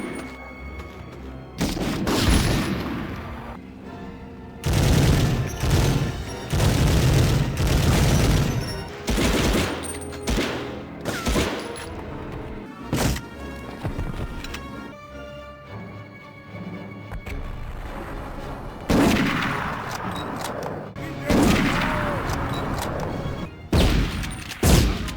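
Gunfire from the 1999 Medal of Honor video game: repeated loud bursts of rifle and machine-gun fire with booming blasts, in clustered volleys separated by quieter gaps, with no talk.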